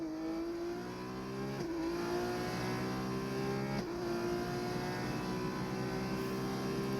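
A race car, an F2-to-F1 type single-seater, drives at speed through corners with a loud, steady engine note that dips briefly twice as it shifts down for a slow fourth corner, heard continuously without talk.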